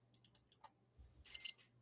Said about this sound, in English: It beeped again.